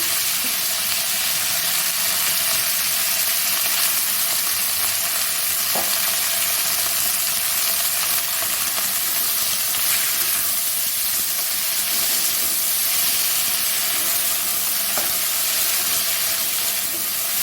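Kharkol leaves sizzle steadily in hot oil in a pan with kalo jeere (nigella seeds), a continuous close frying hiss that runs unbroken throughout.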